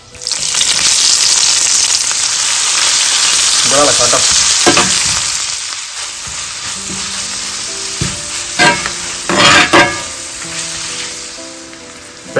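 Onions fry loudly in coconut oil with mustard seeds, urad dal and dried red chillies for a toddy-shop style squid dish. A strong, close sizzle is followed by quieter frying with stirring scrapes, and a brief spoken word.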